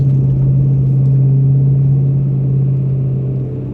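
Rear-wheel-drive BMW M3 with a V8 engine driving on winter roads, a steady loud low engine drone and road rumble filling the cabin without pause.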